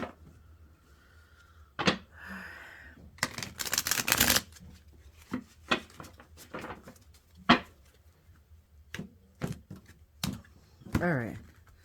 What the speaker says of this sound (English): So they're a little tough to shuffle.